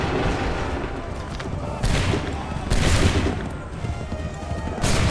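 Musket volleys crack out in Assassin's Creed III, with three heavy broadband bursts at irregular intervals rising over continuous battlefield din and muffled crowd noise.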